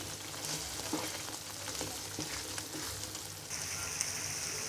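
Milk-cream residue heats in a pan as ghee separates, giving a soft, steady sizzle and bubbling with scattered faint pops, quiet and close with no talk.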